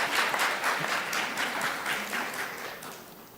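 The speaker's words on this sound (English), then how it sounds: "Yes, please applaud, please," Applause at an international conference closing ceremony, a room full of people clapping at a moderate distance, steady at first and slowly tapering.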